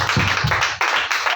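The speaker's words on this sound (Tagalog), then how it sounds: "Gusto po natin ang palakpak natin mga kapatid." Church congregation applauding together during a worship service, a dense, steady burst of clapping that fills the room for just over a second, fairly loud and close.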